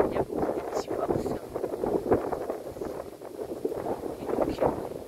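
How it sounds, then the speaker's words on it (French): Strong wind buffets a handheld phone's microphone outdoors, producing a steady, close rumbling roar with irregular gusty swells that persists throughout, mixed with a person talking. "il y a mon portable qui secoue tellement il y a du vent"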